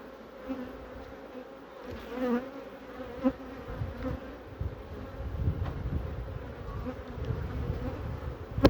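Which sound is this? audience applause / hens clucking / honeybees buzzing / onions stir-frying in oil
honeybees buzzing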